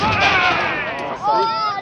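Confederate cannon fired by a crew at a Civil War reenactment: a loud, close blast with a long ringing, echoing roll, followed by a second swell of rumbling report.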